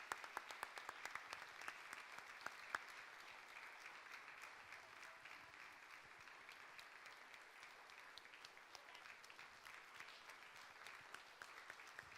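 A school audience gives a teacher a round of applause at an employee-of-the-year event, dense steady clapping from a crowd heard at moderate distance, fading slightly toward the end.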